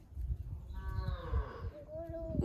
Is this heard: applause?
no